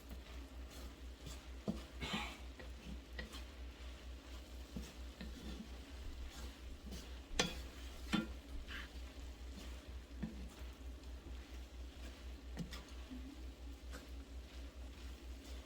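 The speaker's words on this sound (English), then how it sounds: "Stir it around. Get all that pasta coated in all this butter and garlic and white wine." Pasta is stirred through butter, garlic and white wine in a pan for shrimp scampi, with a faint steady sizzle under soft scrapes and occasional clinks of the spoon against the pan.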